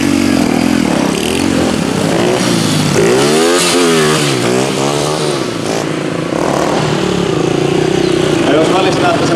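A stunt motorcycle at the Pori motor show roars loudly, its engine held at a high idle and swinging up and down in pitch through repeated revs, steady and close throughout.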